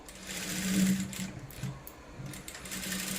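A sewing machine topstitches the sleeve of a saree blouse, its close, steady mechanical whirr running in short bursts that swell and ease with the stitching.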